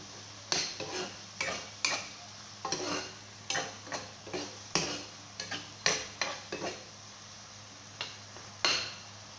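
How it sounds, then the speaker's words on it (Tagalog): A spoon stirs a dish in a cooking pot while making a simple home-cooked meal, giving a run of about a dozen short scraping and knocking strokes in an uneven rhythm, close and fairly clear over a faint low hum. "Halo-haluin ko muna."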